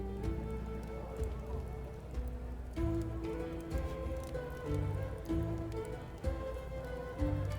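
Steady rain patters on surfaces in the video game Expeditions: Rome, a continuous soft hiss of drops over a low ambient music bed, with no speech.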